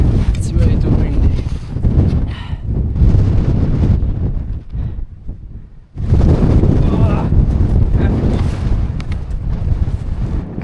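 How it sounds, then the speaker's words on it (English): Strong mountain wind roars and buffets the microphone in loud, continuous gusts, briefly dropping off before surging back, with a voice speaking now and then beneath it. "It's way too windy."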